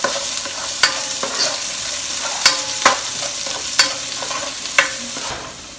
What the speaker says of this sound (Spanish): El chile y la cebolla. Vamos a sofreírla para hacer la carne.